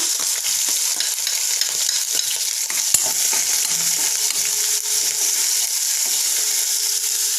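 Cumin, ginger-garlic paste and green chillies frying in a pan with mustard seeds for a boiled potato dish, a steady loud sizzle with light stirring scrapes and pops throughout.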